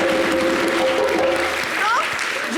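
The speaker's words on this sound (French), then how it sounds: "On applaudit pour sa beauté." Audience clapping on a light-hearted Ivorian variety TV show, a loud, dense and continuous round of applause with voices and tones mixed in underneath.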